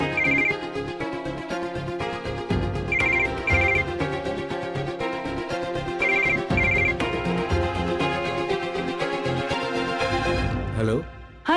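Telephone ringing indoors in a household scene, with bursts of high electronic ring tones recurring several times over background music and voices, cutting off near the end.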